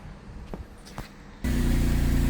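A Porsche 996/997 with a hard-starting condition sits quiet with a couple of faint clicks, then its engine abruptly catches and settles into a loud, steady run close by.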